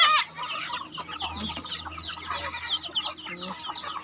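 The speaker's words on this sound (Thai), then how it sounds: "ไก่กำลังเป็นนมเป็นสาว" A flock of young hens being fed in the morning clucks and chatters busily at close range, overlapping soft calls throughout, with a faint low hum in the background.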